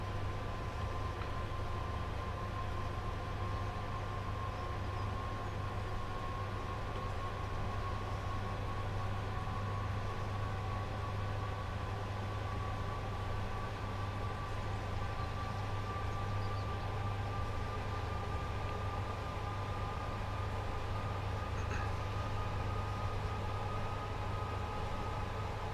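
Steady electric hum and low drone of a Class 86/2 electric locomotive hauling Mk2F coaches under power in a train simulator game, a constant, unbroken tone with faint rail noise and no speech.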